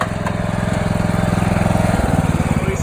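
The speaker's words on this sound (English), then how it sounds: "We successfully moved the trailer from over there to right here with the lawnmower" A lawn mower engine towing a trailer across a yard keeps up a steady, close, loud drone with a fast even throb, alone throughout.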